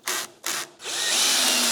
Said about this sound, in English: put those pocket hole screws in